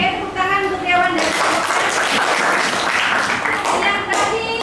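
Classroom applause for student presenters, a dense wash of clapping that fills the whole stretch, with children's voices heard over it near the start.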